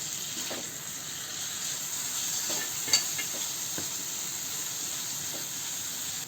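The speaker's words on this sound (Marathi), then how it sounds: "इथं आपल्याला छान मऊ होईपर्यंत परतून घ्यायचा आहे।" Tomatoes with spices being sautéed in a pan, a constant hissing sizzle with soft intermittent stirring taps and one brief sharper knock, close and even, no speech.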